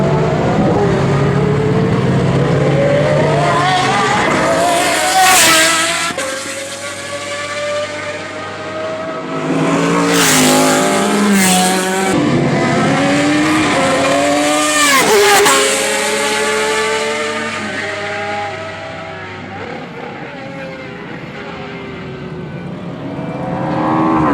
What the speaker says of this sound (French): Un bruit strident comme je n'en ai plus jamais entendu.